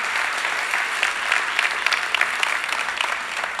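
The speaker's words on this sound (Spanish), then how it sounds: "Denle un aplauso fuerte." Congregation at a church service applauding, a dense, steady round of clapping from a crowd, fairly close and continuous.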